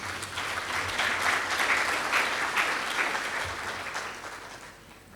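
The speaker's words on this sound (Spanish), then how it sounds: "Un fuerte aplauso para ellos, por favor." Strong audience applause at a national housing panel event, dense continuous clapping from a large crowd that swells and holds steady, then gradually thins toward the end.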